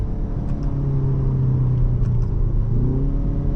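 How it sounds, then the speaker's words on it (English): A 2025 BMW M235 Gran Coupe engine rumbles close and steady through quick dual-clutch downshifts, with brief blips and shifting pitch under a low drone. "Pretty quick downshifts."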